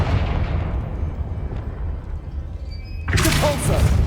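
The Confringo spell goes off in Hogwarts Legacy as a sudden loud explosive burst, rising out of a low rumbling background and ending the clip with a bright, crackling blast.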